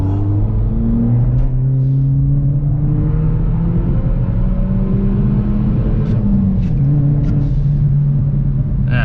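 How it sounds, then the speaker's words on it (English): Steady engine hum and tire rumble from a BMW 1 Series driving on a wet road with patches of snow, heard from inside, the pitch rising and falling gently with speed. "We're just driving on a wet road with a little snow spot here and there"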